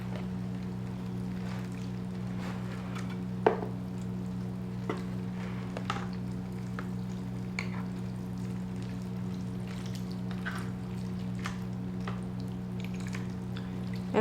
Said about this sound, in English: Okay, gonna water it through.